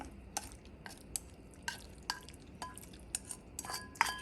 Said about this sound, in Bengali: এবার ম্যারিনেট করা চিকেনগুলো দিয়ে দিতেছি